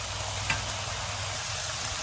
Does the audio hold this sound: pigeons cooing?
no